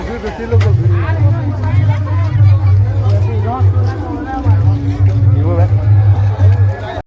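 A large crowd bustles at an outdoor Laxmi Puja fair, a dense babble of many voices under a close voice talking, with a steady low engine-like drone throughout.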